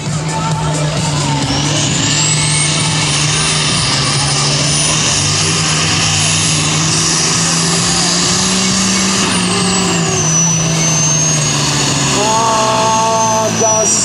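A tractor at a tractor pulling event roars loudly and continuously, the engine pitch climbing and holding steady throughout, with an announcer's voice faintly under it.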